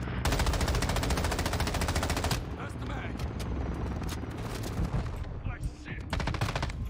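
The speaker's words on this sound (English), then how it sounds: "I'm already shooting at it." Sustained rapid automatic gunfire aimed at a helicopter in Modern Warfare 2, loud and dense for a couple of seconds, then continuing in scattered bursts and single shots mixed with explosions and game noise, with a voice talking over it.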